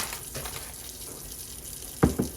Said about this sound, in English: I take a bowl and I put some water in it